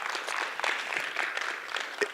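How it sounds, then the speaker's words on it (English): Audience at a 518 Talks community event clapping in a steady round of applause, dense and moderately close, lasting a couple of seconds with no voices over it. "we can clap it up for that, right?"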